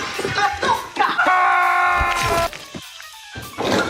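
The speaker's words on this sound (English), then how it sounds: "it's filled with CGI blood and generic scream sound effects" Stock horror-movie scream sound effects over CGI gore: short harsh yells and a sustained shriek with crashing hits, loud, then a brief dead gap before more noise.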